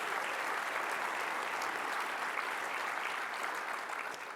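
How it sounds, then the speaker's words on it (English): A conference audience at a summer policy event applauds steadily, a dense, even wash of clapping sustained for about four seconds, heard from a moderate distance with no talk over it. "So yeah, clap for that."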